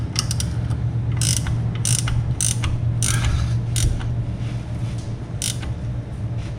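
Ratchet clicking while tightening a bolt on a 1977 Pontiac Trans Am, a run of close metallic ratcheting bursts in uneven spurts over a steady low hum.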